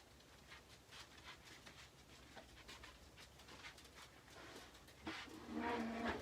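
A dog pants close by in quick, soft, rhythmic breaths, fairly quiet at first and growing louder near the end with a brief whiny sound.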